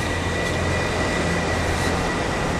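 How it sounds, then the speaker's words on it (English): Steady rumbling train noise at a station, a continuous broad roar with a low hum underneath, loud and close, with no talking. "I just got off the train."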